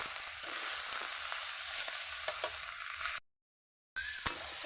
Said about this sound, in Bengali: তো অনেকটাই মশলা দিয়ে সবজি কষানো হয়ে গেছে।